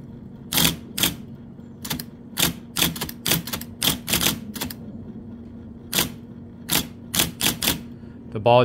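An IBM Correcting Selectric II electric typewriter typing, irregular sharp clacks of the type ball striking in quick clusters over a constant motor hum, heard close and loud.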